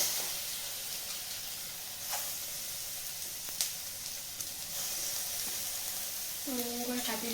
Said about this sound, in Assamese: এতিয়া লাহেকৈ ডাঙৰ মাছকেইপিচ সৰু সৰুকৈ ইয়াত দি দিম।